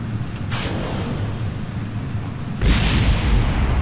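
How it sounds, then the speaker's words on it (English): A spacecraft blows up in Kerbal Space Program, where a steady engine rumble gives way to a sudden loud, broad blast that stays roaring to the end. "Bit of an explosion."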